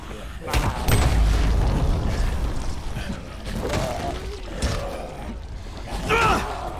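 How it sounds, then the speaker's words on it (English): A firework bursts in the video game Dying Light with a loud booming blast, followed by several more crackling bangs and rumbles spread across a few seconds. "I meant to throw firework."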